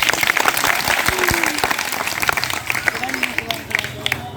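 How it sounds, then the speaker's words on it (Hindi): An audience at a school magic show applauds for a child, with sustained clapping under occasional voices that rises and falls in intensity. "जोरदार बच्चे के लिए तालियां बजाइए।"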